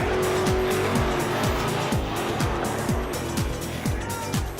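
Small robotic race cars built by school students drag racing down a backstretch, with repeated sharp tire squeals and rapid whirring engine pulses close by, fairly loud and continuous with faint background voices.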